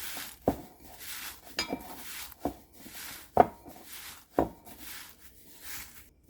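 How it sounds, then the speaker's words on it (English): Quiet scattered crunching and rustling of dried basil being crushed in a bowl, with several sharper taps and scrapes at irregular intervals, close by. "I'm actually doing this one in a bowl so I can crunch it just easier with the basil"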